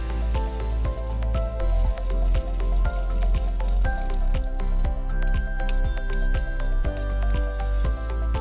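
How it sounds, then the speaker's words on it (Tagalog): Egg mixed with okra fries in hot oil in a pan, a loud, steady sizzle and crackle with regular popping pulses under a strong low hum, with no voices. "At medyo mainit na din yung mantika, agad ko naman nilagay yung ating itlog na may okra."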